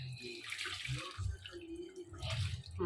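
Cold water from the fridge is poured into a vessel while butter is churned at home, giving an uneven splashing and gurgling stream that comes and goes in bursts, close by and fairly soft.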